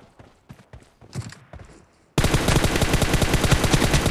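Rapid automatic gunfire in PUBG Mobile during a team deathmatch, a dense, loud burst of steady shots that erupts suddenly after a quieter stretch of scattered, softer single reports.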